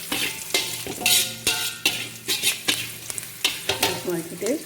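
Chicken 65 ingredients are sautéed in a pan: a continuous close sizzle under repeated scraping stirs and soft clinks of a spoon against the pan, about a dozen strokes in an uneven rhythm.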